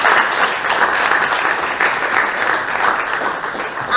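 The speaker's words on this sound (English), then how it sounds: "Give our city a round of applause." An audience at a civic reception in San Fernando applauds in a steady, dense roll of clapping for several seconds, with no talking over it.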